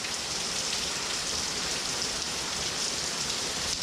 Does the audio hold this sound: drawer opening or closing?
no